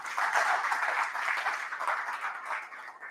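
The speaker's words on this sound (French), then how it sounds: "on peut les applaudir" Audience applause for the organisers at an agile conference in France, a steady wash of many hands clapping that fills the room evenly for about three seconds before easing slightly.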